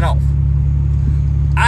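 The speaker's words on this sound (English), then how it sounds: "every 10 foot we pull up, this car is just stomping that exhaust" A car with a loud exhaust rumbles deep and steady nearby while creeping forward in a school drop-off line, with a person talking briefly at the start and end.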